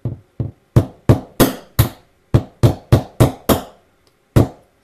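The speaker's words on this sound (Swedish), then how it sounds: "Knackar jag ju den över där med direkt med hammaren" Sharp hammer taps strike a Volvo 745 fuel filler flap, about a dozen close, loud knocks in irregular bursts with short pauses between them, and no talk over them.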